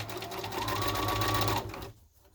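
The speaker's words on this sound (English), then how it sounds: "So drop your foot and go forward 3 or 4 stitches, back stitch," A sewing machine stitches a scrub hat seam in a steady close motor whir, running forward then briefly reversing for a back stitch before stopping near the end.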